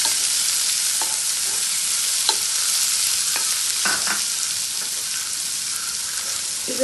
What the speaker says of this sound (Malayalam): നമ്മൾ കട്ട് ചെയ്ത് വെച്ചിരിക്കുന്ന സവാള ഇതിലേക്കിട്ട് നല്ലപോലെ വഴറ്റിയെടുക്കണം